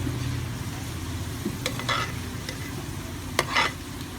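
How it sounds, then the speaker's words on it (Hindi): Pakoras for Punjabi kadhi fry in oil over medium heat, a steady soft sizzle with a few scraping stirs of a spoon through the pan, heard close and without talk. "आप लोग इस तरीके से इसको दरमियानी आंच पे फ्राई करें"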